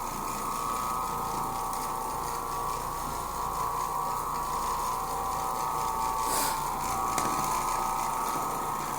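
An Oreck Orbiter 550MC floor machine scrubbing badly neglected, abused carpet, giving off a steady droning motor hum with a rattling mechanical whir, continuous and close, with no voices.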